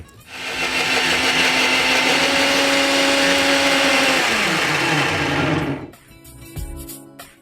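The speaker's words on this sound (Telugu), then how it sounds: "దీన్ని మనం ఇప్పుడు మిక్సీ పట్టేసుకుందాం" A mixer grinder blends a paste for paneer methi malai gravy, whirring loudly and steadily for about five seconds before it winds down and stops, followed by faint clatter.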